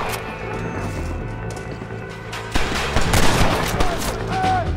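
Gunshots in the Red Dead Redemption video game on PC, a rapid cluster of loud sharp reports mixed with game music and ambience, shooting at people's hats, firing close and dense in the second half.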